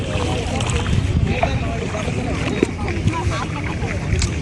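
A boat moving across a marshy beel used for rice fields, with steady wash and water noise under light wind, and people talking nearby throughout.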